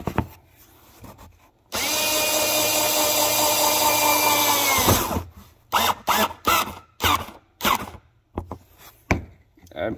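A screw gun whirs loudly and steadily for about three seconds while driving a screw, stops, then follows with a series of short tapping and handling noises.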